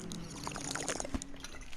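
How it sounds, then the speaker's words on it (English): Water poured for a drink, a short liquid pour with light trickling, fairly close and moderately loud against a steady background hum. "Have a drink of"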